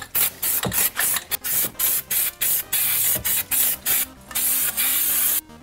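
Red paint sprayed onto car brake calipers on a Twin Turbo 300ZX, about a dozen short, loud hissing bursts from a spray can in quick, slightly uneven rhythm, close by with no talking.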